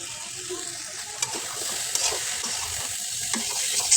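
Steady close sizzling of beans with dried puti fish frying in a pan, with occasional scraping taps of a spatula stirring through it.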